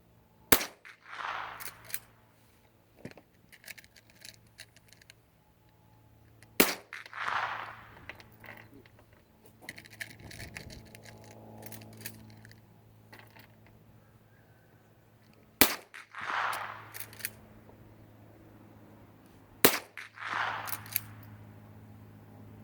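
.22 Magnum rifle shots crack at intervals, each followed by a faint metallic ring off a yellow air cylinder downrange, with quiet pauses between.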